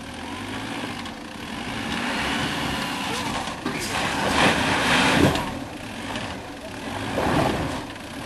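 A Jeep engine runs at a low rumble with revs swelling and easing as it goes into first gear, moderately loud and near, with no talk over it.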